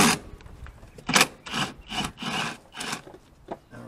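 A 10mm bolt on a bracket of a Ford 4.6 engine's intake manifold is worked loose with a hand tool: a series of rhythmic scraping, ratcheting strokes, close and fairly clear, with short pauses between them.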